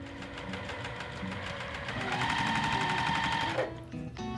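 Sewing machine joining two quilt pieces, running at a steady rapid stitching rhythm that speeds up and then stops abruptly, close by with no talk.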